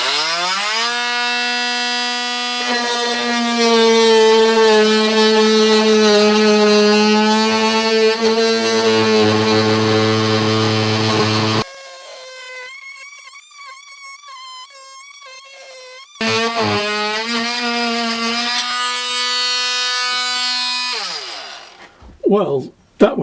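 Parkside cordless multi-tool running at full power as it cuts wood, giving a loud buzzing whine that shifts in pitch under load, stops partway through, then starts again.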